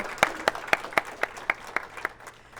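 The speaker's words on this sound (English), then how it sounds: "so clap loud." Sparse, evenly spaced hand claps, about nine sharp beats in a slow steady rhythm, sound faint and a little distant at a monthly community event, with no voices over them.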